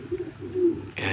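Pigeons in a loft coo with low, soft, rolling calls, several overlapping phrases close by, before a brief burst of brighter rustling noise at the end.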